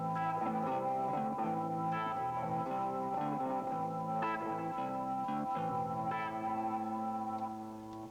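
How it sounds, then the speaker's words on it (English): A guitar synthesizer producing programmed layered tones, sustained chord-like notes with echo and chorus effects shifting every second or so, loud and alone before fading at the end. "you can now come up with interesting combinations of sound like this."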